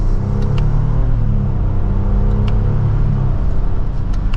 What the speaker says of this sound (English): that was a nice mild acceleration up to speed